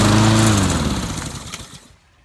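A Honda lawn mower engine runs loud and close, its rough mid-range drone fading over a couple of seconds as it winds down, with a faint sharp pop near the end.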